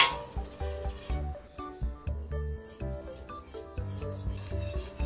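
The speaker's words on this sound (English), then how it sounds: "Then you stir the mixture" A spoon stirs an eggnog mixture with nutmeg in a pot, giving repeated close scraping and clinking strokes in a steady rhythm against a faint background tone.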